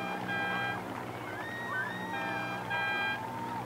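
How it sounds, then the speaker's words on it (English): A finish-line buzzer at a 2014 Maadi Cup rowing regatta sounds in two bright, sustained electronic tones for a girls' under-18 coxless pair race, over open-air waterside ambience. "Christchurch girls will get the buzzer."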